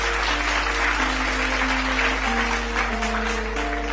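A church congregation applauding steadily at close range, dense continuous clapping with a low hum underneath, a short loud knock at the very end.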